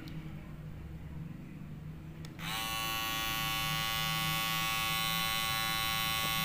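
A Kemei KM-2027 electric shaver switches on after a quiet start and runs with a steady, loud, even buzz close by, alone with no talking.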